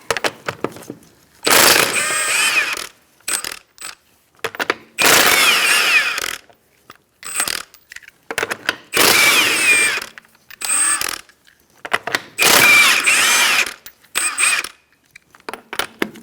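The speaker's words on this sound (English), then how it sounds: "Using a 21mm socket, we're going to take off our lug nuts." Bursts of ratchet clicking as a 21mm socket works lug nuts off a 2004-2009 Mazda 3 front wheel, four or five loud close runs of rapid clicks separated by pauses, no talking.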